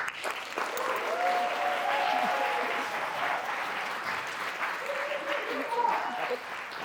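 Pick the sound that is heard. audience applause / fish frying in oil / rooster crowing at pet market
audience applause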